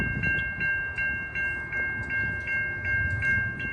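A VIA Rail train rumbles steadily closer at Markham with a rhythmic clicking of wheels over rail joints, and a faint warning bell or tone rings repeatedly over the low roar.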